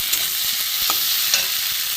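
Grated boiled potato frying in a pan, a steady close, bright sizzling hiss with small crackles and faint stirring taps, no voices.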